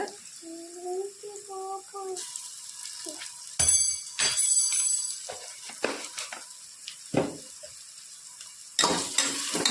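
Ginger garlic paste sautéed in a hot pan, with bursts of sizzling and a few scraping stirs alternating with near-silent gaps, plus a brief tonal beep near the start.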